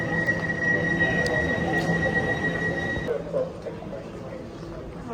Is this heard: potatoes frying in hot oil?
no